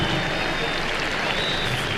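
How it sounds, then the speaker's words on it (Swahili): A crowd applauds as the KDF Green Eagles soldiers leave the arena at an air show in Nairobi, a steady, dense wash of clapping and crowd noise with no break. "Tuwape makofi tafadhali wananchi wanapoondoka na Green Eagles hapo uwanjani."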